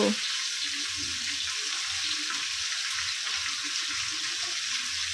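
Chicken pieces sizzling and frying in a pan while being stirred slowly, a steady close hiss with soft scraping and shifting underneath.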